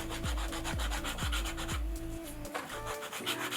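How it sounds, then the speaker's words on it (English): A nail file rubs back and forth over acrylic nails in a steady, close rhythmic scraping of about five or six strokes, with no talking. "You can simply use a nail file and just pop it like this."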